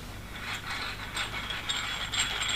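Brake caliper piston being wound back with a ToolPro caliper tool and magnetic adapter during a rear brake service, giving steady close ratcheting, mechanical clicking throughout.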